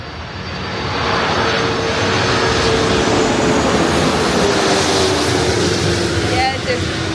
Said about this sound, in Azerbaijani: Birazdan burada təyyarə keçəcək.